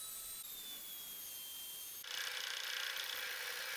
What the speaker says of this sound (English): And it was time for some sanding.